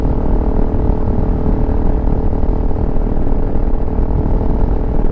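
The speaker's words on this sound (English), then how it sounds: "now it sounds like a real motorcycle. You can definitely hear it, but it's not obnoxiously loud" Honda CRF300L Rally motorcycle with an aftermarket exhaust, its single-cylinder engine running at a steady, close, continuous drone with a low throb and no talk.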